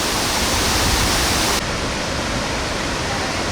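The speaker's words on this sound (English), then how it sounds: "And this here is the main waterfall." A large waterfall, Ban Gioc Falls on the Vietnam-China border, in the rainy season roars steadily and loudly, a dense wash of rushing water filling the whole clip without pause.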